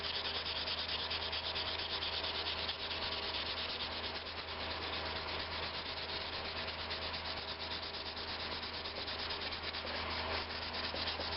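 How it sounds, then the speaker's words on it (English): A wooden chef's knife handle is rubbed with 220-grit sandpaper in steady, continuous strokes, a soft close-up scratching that goes on without pause. "So we'll go ahead and sand this up."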